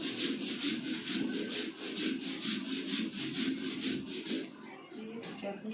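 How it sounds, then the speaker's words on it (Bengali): Mustard seeds being ground by hand on a flat stone slab (shil) for a mustard paste, a steady rhythmic rubbing and scraping that repeats in strokes about every third of a second, close and continuous, easing off near the end. "সেই জন্য শিলে সরষাটা বাটছি"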